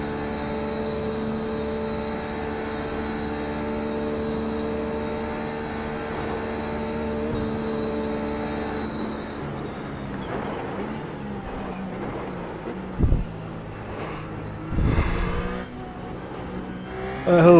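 Race car engine in iRacing at the Nurburgring holding a high, steady drone with strong harmonics, then breaking into rougher revving bursts and sharp blips toward the end, no talk.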